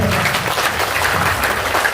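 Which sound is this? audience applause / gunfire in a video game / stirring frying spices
audience applause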